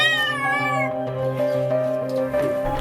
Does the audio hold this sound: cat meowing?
yes